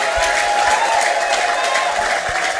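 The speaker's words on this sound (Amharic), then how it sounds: "በደንብ አጨብጭቡ ለኢየሱስ።" A church congregation applauds in a dense, continuous roar of clapping that stays loud and even throughout, with no clear talking over it.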